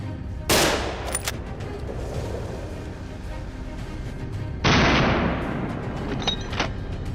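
Hunters fire rifles at a herd of wild boars in the open, with two loud, sharp bursts of gunfire a few seconds apart. Rustling and outdoor noise fill the gaps between them.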